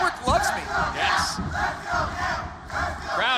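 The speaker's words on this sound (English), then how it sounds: "Crowd solidly behind Gail Kim in this knockouts matchup." A wrestling crowd at a women's knockouts match chants and cheers loudly in rhythmic bursts, a dense mass of voices rising and falling close around the ring.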